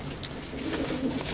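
Soft pigeon cooing, low murmuring coos repeating through the clip with faint rustling in the background.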